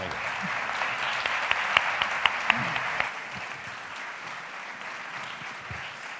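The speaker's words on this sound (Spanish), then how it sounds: "Aplausos" An audience at the Plasencia Encorto 2023 film festival award ceremony applauds as the honorary award presenter comes on, a steady mid-level wash of clapping with a few sharper claps early on that fades to a lower hum.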